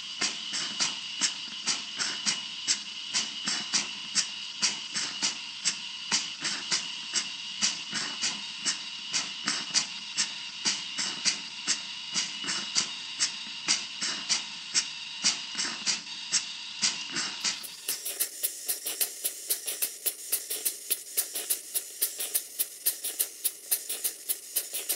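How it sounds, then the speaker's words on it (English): A model steam engine runs on low pressure steam, giving a fast, steady train of regular chuffing exhaust beats with hiss, close and alone, the tone brightening in the final seconds. "I'll stop talking for a while and just let you listen to the engine,"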